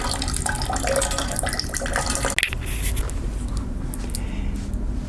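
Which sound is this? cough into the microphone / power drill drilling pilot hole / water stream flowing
water stream flowing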